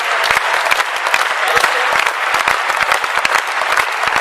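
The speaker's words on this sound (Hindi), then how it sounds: "आप भी तालियां बजाओ" Audience applause at a Hindi poetry recital, loud and close, a dense patter of many hands clapping continuously for about four seconds, with sharp individual claps standing out and no speech over it.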